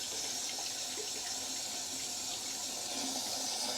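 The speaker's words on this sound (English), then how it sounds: "See it pumping out all brown water." Dirty brown water gushing steadily out of a DIY sports cruiser boat as a pump runs with a hose fed in, a continuous broadband rushing splash close by, with no talk.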